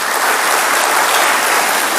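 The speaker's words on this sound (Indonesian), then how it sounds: "Tepuk tangan bagi Tuhan Yesus Kristus." A church congregation claps loudly together during a sermon, a dense, even roar of many hands with no pauses.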